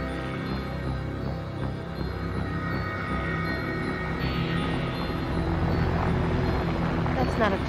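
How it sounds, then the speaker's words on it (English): Steady low mechanical drone of a helicopter overhead, loud and continuous throughout, with a faint shout near the end. "That's not a plane, that's a helicopter."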